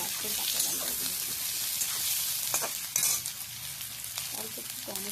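Vegetables and fresh green chilies frying in a pan for a river fish dish, a close continuous sizzle with occasional scraping stirs, with no voices over it.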